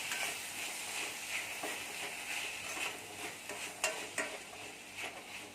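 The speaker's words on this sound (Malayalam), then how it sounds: "നന്നായിട്ടൊന്ന് വഴറ്റിയെടുക്കണം." Tomatoes, ginger and onion sautéed in a pan for mushroom curry, a soft steady sizzle with occasional stirring scrapes and clicks, close and low in level, no voices.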